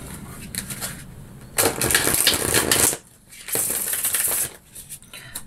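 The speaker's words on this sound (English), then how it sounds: "Let's give you a quick shuffle." Tarot cards are shuffled in quick riffling bursts, two loud crisp flurries with quieter rustling between, close to the microphone, no talking.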